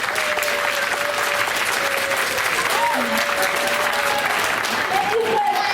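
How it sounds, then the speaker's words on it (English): Sustained audience applause at a school board regular action meeting, steady dense clapping throughout with a faint voice and some whistling tones beneath it. "Let's give them a big round of applause."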